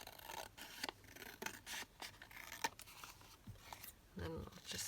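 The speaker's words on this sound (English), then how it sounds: "So I'm just going to snip it across here and then across at the bottom" Scissors snipping through paper to make collage ephemera, a run of close, quiet cutting and rubbing strokes in irregular bursts with soft handling noise.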